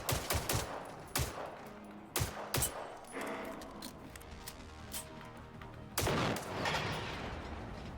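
Bursts of automatic gunfire in Generation Zero, sharp loud cracks in rapid clusters separated by quieter gaps, with a longer heavy volley near the end.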